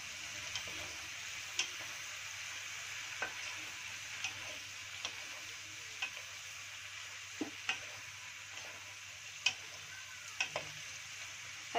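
Shrimp shells and vegetables frying in a pot while being stirred, with a faint steady sizzle and sharp, regularly spaced clicks from a utensil against the pot.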